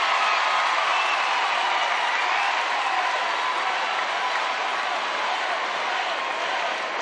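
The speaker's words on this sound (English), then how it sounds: "You can hear the crowd." Steady crowd cheering and applause fill a college gymnastics arena during an Alabama versus Boise State meet, a dense, even roar that holds for the full stretch with no voices standing out.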